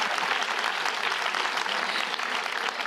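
Sustained audience applause at a women's business event, a loud, dense crowd of clapping that holds steady throughout with no talking.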